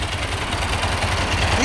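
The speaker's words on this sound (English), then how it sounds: "you hear that nice clutch? Chaka, chaka, chaka, chaka, chaka." A Bimota Tesi motorcycle idles close by, a steady low engine throb with a rattling dry clutch clattering rhythmically through it, and no talk over it.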